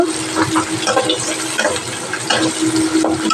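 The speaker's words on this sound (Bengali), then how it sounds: "পেঁয়াজটা একটু হালকা ভেজে নেব।" Onion fries lightly in a pan, a close, loud crackle and sizzle with scraping stirs in short bursts over a few seconds.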